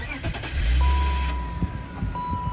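A 2003 BMW 530i E39 engine cranks and catches, rising to a loud close rumble that then settles into a steady idle, with a thin tone running alongside.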